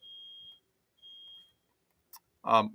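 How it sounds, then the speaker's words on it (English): Two steady high-pitched electronic beeps, each about half a second long, from a smoke alarm in a house, followed by a brief click and a burst of muffled sound. "There's a smoke alarm going off in the house."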